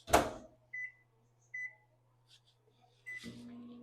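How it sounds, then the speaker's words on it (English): A microwave oven starts up to melt candy: a door thud, a few short beeps spaced apart, then the low steady hum of the oven running, all fairly quiet. "I'm going to put these in the microwave for 30 seconds"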